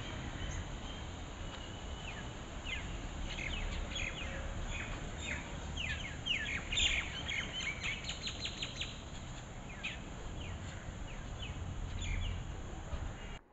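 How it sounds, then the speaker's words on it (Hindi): Birds chirp and tweet in quick repeated trills at a temple in Delhi, moderately distant against a low, steady outdoor background hum, with no talk. "यहाँ कुछ पक्षियों को देखकर राधा उन्हें दाना डालने चली गई है।"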